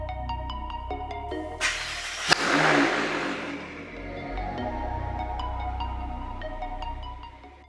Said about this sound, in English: So let's go ahead and get the car started and see how it sounds.